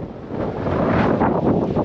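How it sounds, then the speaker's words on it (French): Strong wind roars and buffets the microphone in loud gusts, rising in intensity over a couple of seconds, with no talking. "Il y a un vent de fou."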